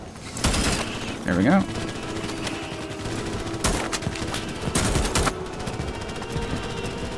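Gunfire in the Starship Troopers: Extermination video game as a Bastion heavy infantry soldier fires a weapon: several bursts of rapid shots between pauses, heard under a voice talking.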